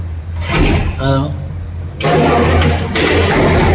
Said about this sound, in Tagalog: Kinis ang engine ng D65 na ito mga boss